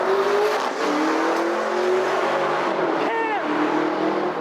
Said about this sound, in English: I think that was a Lambo. That sounded like a Lambo.